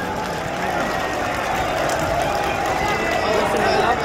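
A large crowd in Moradabad applauds to welcome BSP leader Mayawati, a steady, loud roar of clapping and crowd noise that holds evenly throughout.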